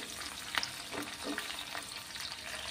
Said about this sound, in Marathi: आता यामध्येच आपल्याला घालायचे आहेत जाडसर कट करून घेतलेले कांद्याचे काप। तर तेही तेलावरती आपल्याला व्यवस्थित परतून घ्यायचे आहेत।